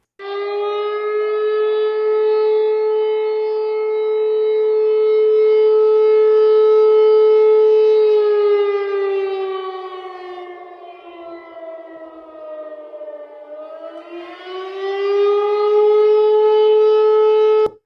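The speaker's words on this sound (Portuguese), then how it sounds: "A sirene de alerta de ataque aéreo não acontecia ali em Belgorod, agora acontece, ó." A loud air raid siren in Belgorod wails steadily, its pitch sagging and dipping before rising again toward the end, with no voices.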